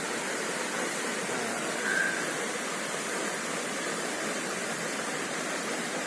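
Steady broadband rush of the Cikundul waterfall, a constant even roar heard from a moderate distance with no voices.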